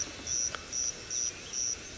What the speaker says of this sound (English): If you can hear that cricket in the background.